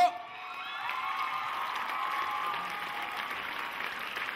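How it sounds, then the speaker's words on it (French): Sustained crowd applause at a live stage show mixed with cheering and excited shouts, a dense wash of clapping that carries on throughout. "on peut vraiment les applaudir"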